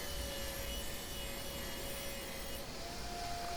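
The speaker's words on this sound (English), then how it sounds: "I snuck up on the cut, again only taking the slightest bit off the maple and walnut." Table saw with a crosscut blade trimming maple and walnut end grain cutting board stock, a continuous close whining cut with a steady tone that shifts slightly near the end, with no talking.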